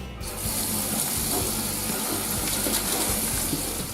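Lamb meat is rinsed under a steady stream of running tap water, a broad, constant splashing rush heard up close, without talk.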